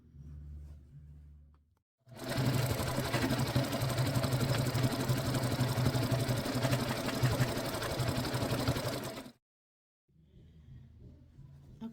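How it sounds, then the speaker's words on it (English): A sewing machine stitches a quilt-as-you-go Christmas table runner in one steady, close run of rapid needle clatter and motor hum lasting about seven seconds, with quiet room sound before and after. "I'm going to start stitching about right there, about 1/4 inch"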